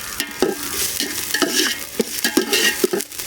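Ginger garlic paste frying in oil with cinnamon, cloves and onion, stirred in a pan outdoors by a riverbank: close sizzling broken by repeated scraping stir strokes every half second or so, no talk.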